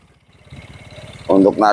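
Four-wheel farm tractor engine running while it pulls out a stuck tractor in a melon field. It starts as a low chugging idle under nearby talk, then revs loudly in two strong bursts near the end.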